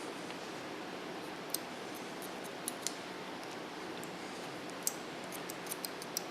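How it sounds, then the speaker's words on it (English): Scissors snip through hair during a freehand haircut, producing sharp, faint clicks scattered irregularly over a soft hiss, close to the ear with no talking. "you can hear the cutting of the hair"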